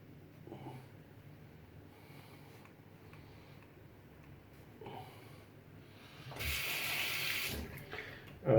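A bathroom tap runs briefly to wet a Kai five-blade razor during shaving, a steady hiss of water flowing close by for about two seconds, with faint handling noises around it.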